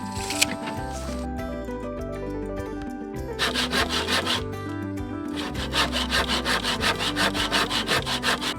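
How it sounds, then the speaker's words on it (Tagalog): A sharp hand saw cuts through bamboo for a low-cost goat shed, rapid rhythmic rasping strokes growing louder and faster, heard over a continuous background of music. "Mabilis ko lang naputol kasi matalas ng aming lagari."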